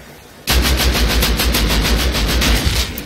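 Shotgun blasts in the survival game Rust, a loud burst of rapid repeated shots starting abruptly after a quiet moment and continuing steadily with heavy low booms.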